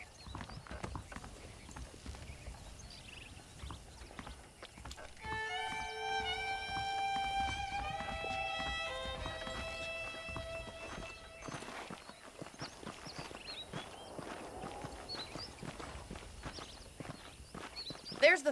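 A horse clip-clops at a steady walking pace in the video game Red Dead Redemption. The hoofbeats are close and regular, with a musical tone and faint background sounds layered over them.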